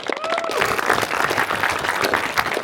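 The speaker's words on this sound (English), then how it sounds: "I want to give a round of applause to our hosts, Naved and Iram Khan." A crowd at a fundraising gathering at a private home in Chandler applauds the event hosts, dense steady clapping filling the whole stretch with a brief voice at the very start.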